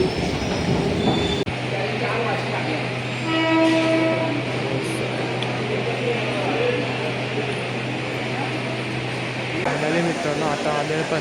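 A Diva–Roha local train pulls into Panvel station with a loud, steady rumble of wheels and a drawn-out squeal, plus a short horn-like tone in the middle; a voice can be heard over the station noise.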